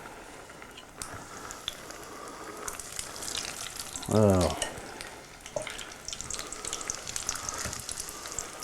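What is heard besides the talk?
cookie dough frying in hot oil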